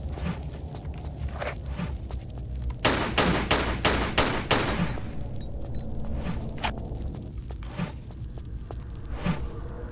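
Gunfire in Tomb Raider 4: The Last Revelation, inside Menkaure's Pyramid, as a revolver shoots at a target: a rapid burst of five loud, sharp shots near the middle, set among lighter clicking footsteps and small game effects.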